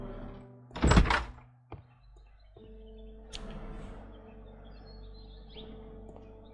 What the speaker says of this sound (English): No, that was just the door.